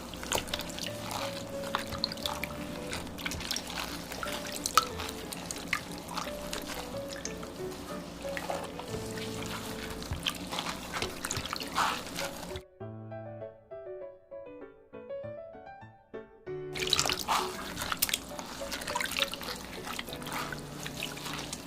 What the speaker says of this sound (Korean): 물에 불린 엿기름을 주물주물해서 엿기름물을 만듭니다